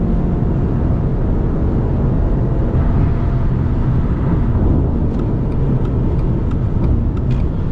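A 2021 Subaru Legacy XT Touring accelerates hard on the road, giving a loud, steady engine roar and broadband road and wind rumble that holds all the way through, with no talking.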